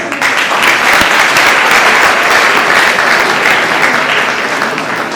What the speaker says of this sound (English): Loud clapping, students.